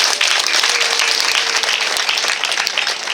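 Applause from an audience welcoming a guest at a traditional Rwandan engagement ceremony, a dense steady wash of clapping lasting about three seconds, close and loud.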